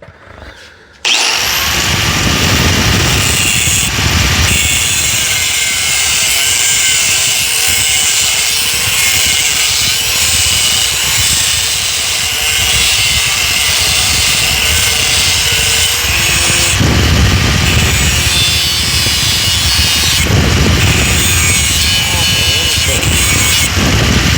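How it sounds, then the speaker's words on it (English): A cutoff wheel grinds continuously through part of a broken blower housing, making a loud, sustained harsh whine and rasp with brief dips in intensity, close to the tool. "I'm gonna cut it off with the cutoff wheel instead"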